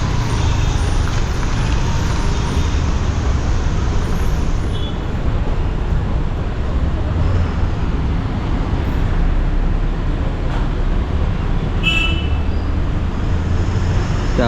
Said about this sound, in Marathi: ट्रॅफिक खूप लांबपर्यंत लागलेलं दिसतंय. ॲक्च्युली मोठ्या मोठ्या लॉऱ्या पण असतात ना.